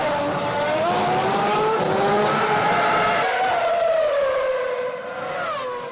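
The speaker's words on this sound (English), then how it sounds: "Michael Schumacher started 14th and makes his 2nd pit stop" A 2006 Formula 1 car leaves its pit stop on fresh tyres, its high engine whine rising in pitch as it accelerates, loud and near, then easing off toward the end.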